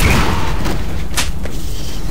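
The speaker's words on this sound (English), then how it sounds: "That's what a grenade does." A grenade in Quake 4 going off with a loud, dull boom that stays low and rumbling, followed by a brief sharper crack, with no voices.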